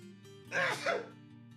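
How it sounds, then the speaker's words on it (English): A single sneeze from a person at a microphone, a short sharp burst lasting about half a second against faint background hum. "I'm gonna sneeze now."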